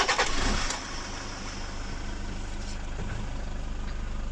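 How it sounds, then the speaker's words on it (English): A Toyota Hilux with about 297,000 km fires up with a short burst, then settles into a low, steady idle heard up close. "After applying Super Nano, we immediately start the engine."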